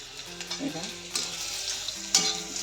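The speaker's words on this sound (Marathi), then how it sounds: "सगळं असंच भाजून घेते मी" Soft sizzling and stirring as spices roast in oil in a pan, a quiet continuous crackle with a few light scrapes and clinks.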